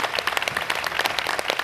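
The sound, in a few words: audience applause on a TV show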